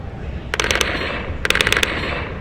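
Laser tag gun with built-in recoil firing two rapid bursts of about six sharp, mechanical clacking shots each, close and loud over a steady background hum.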